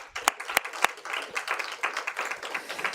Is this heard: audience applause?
yes